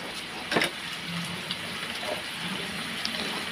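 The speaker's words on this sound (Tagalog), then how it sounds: "Kasi nga, lalagyan na natin siya ng tubig" Water poured into a hot pan of pork steak for a creamy mushroom dish: a steady close gushing wash with a few small clinks, no talking.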